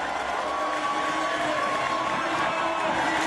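Swedish spectators cheer at a cross-country ski race in Ulricehamn, a broad, steady roar of crowd noise holding loud and continuous throughout with no distinct individual voices standing out.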